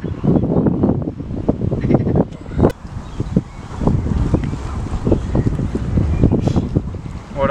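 Strong gusting wind buffets the microphone at a wild gravel-pit lake during carp fishing, in loud, rough rushes, with a continuous roar and no voices.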